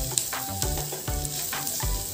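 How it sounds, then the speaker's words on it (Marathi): Chopped onion sautés in a pan for butter chicken, giving a close, continuous sizzle with rhythmic stirring scrapes about every half second, and no voices. "हे पहा, कांदा आपला परतून झालेला आहे"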